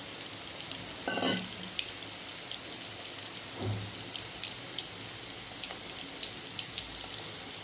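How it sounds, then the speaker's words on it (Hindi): Chicken wings fry in a pan with a steady, close sizzle and crackle, broken by a sharp clatter of stirring near the start and a low thump midway, with no talking. "चार से 5 मिनट तक हमें इसे फ्राई करना है।"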